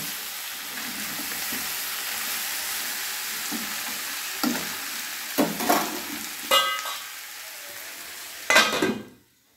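Mixed vegetables for labra are sautéed over medium flame with a continuous sizzle and a few louder spatula scrapes and clanks, the sound cutting off abruptly at the end.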